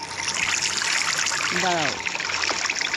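Steady trickling, rushing water in Minecraft fills the clip, with a brief spoken word partway through.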